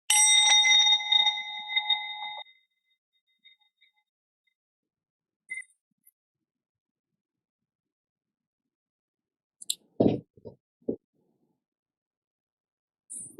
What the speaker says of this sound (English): So I'll ring the bell now just to bring our practice to a close.